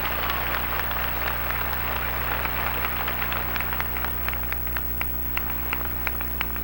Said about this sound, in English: And that gets a big round of applause from me